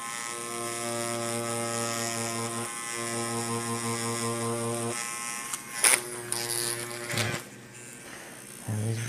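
Continuous electric buzz of a tattoo machine running as its new needles make impressions in skin for a micro tattoo, a steady droning whine that pauses briefly and then returns with a few soft clicks and knocks.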